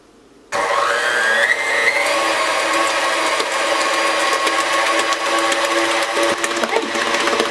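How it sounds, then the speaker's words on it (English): A KitchenAid stand mixer kicks on and runs steadily at medium speed, beating brownie batter with a constant motor whine and a faint rhythmic rattle, loud and close, with no talking. "You want to go to medium speed on a KitchenAid between 4 and 6."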